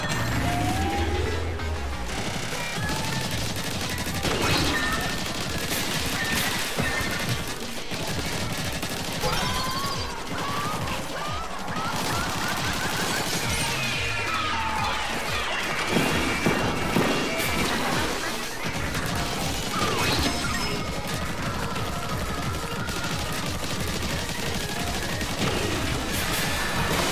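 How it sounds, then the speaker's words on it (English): Rapid bursts of layered rotator weapon fire in Splatoon 3 Side Order, clattering and splattering continuously amid busy game effects and crashes, fairly dense throughout. "I like our chances with layered rotator here because of how fast we fire."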